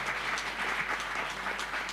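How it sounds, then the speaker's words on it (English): Audience applause fills a conference hall, a steady wash of many hands clapping together, continuous and fairly even throughout with no voices rising above it. "we have a big round of applause for all of these dignitaries."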